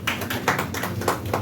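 Audience applause at a discussion gathering, a close, fairly loud run of irregular claps with a few stronger accents across a brief stretch, no talking over it.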